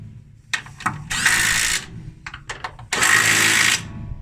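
Power tool tightening three bolts on a combine reverser bracket during an A1100-CR install: two loud, sustained bursts of whirring with short ratcheting clicks between them, close and alone.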